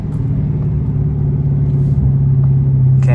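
Dodge SRT 392 V8 driven in track mode, heard from inside the car as a loud, steady, deep engine drone with a low rumble that holds fairly even throughout.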